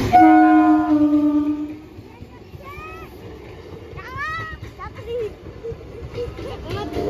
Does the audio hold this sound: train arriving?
yes